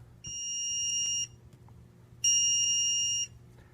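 A crane's load monitoring system on a Carrydeck crane sounds its warning at about 85% capacity: two sustained high-pitched electronic beeps, each about a second long, separated by a short gap over a faint low hum.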